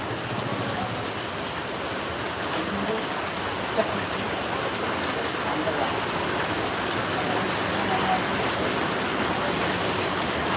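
Dense, steady hiss of heavy rain pouring down, continuous and even throughout with no pauses.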